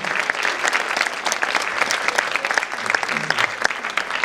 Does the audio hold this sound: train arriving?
no